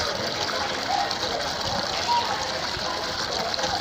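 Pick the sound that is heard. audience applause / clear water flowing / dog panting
clear water flowing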